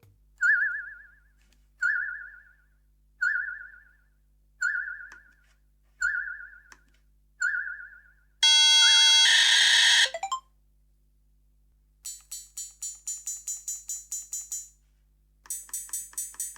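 Six short, evenly spaced electronic beeps, then a harsh buzzing burst and fast chirping digital tones, like data being sent as sound from a speaker to a PO-32 Tonic pocket synthesizer.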